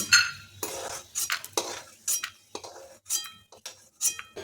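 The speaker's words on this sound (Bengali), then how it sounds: "এখন বাদামটা ভাজা হয়ে গেল, তুলে নিচ্ছি।" A spoon scrapes and clinks against a pan as peanuts fried in a little mustard oil are lifted out. The sharp metallic strokes repeat roughly every half second, with a faint sizzle in between.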